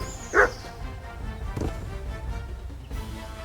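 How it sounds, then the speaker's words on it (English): In Kingdom Come: Deliverance 2, a dog gives one sharp close bark, followed by softer yips and whines over a quiet background. "You silly doggy."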